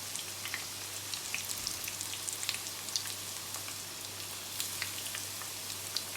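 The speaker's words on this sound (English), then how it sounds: "I'm frying the chicken in medium to low heat of temperature" Chicken frying Thai-style in hot oil over medium-low heat gives a steady, soft sizzle with scattered little pops and crackles throughout.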